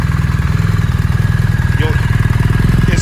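A BMW R1300 GS motorcycle fitted with Akrapovic titanium headers idles close by with a loud, raspy, rapid exhaust pulse that holds steady for the whole stretch. A faint voice can be heard briefly.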